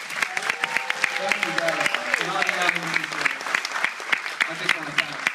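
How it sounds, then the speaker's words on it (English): An audience at a film festival Q&A breaks into close, steady clapping that runs the whole time, with someone speaking briefly over the applause. "So a round of applause for them."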